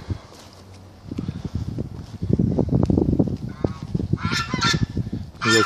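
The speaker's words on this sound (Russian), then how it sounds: "Тут гуси. Давайте вам гусей покажу." A flock of geese honking outdoors near a workplace on a sunny day: repeated loud nasal honks, close and overlapping, with a brief higher squawking near the end.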